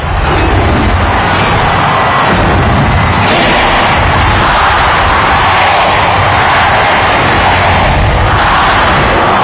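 Booming New Year's Eve fireworks at a huge outdoor celebration in New York City, a dense, continuous roar of blasts and crackles with repeated sharp bursts over a loud crowd-like wash, no pauses.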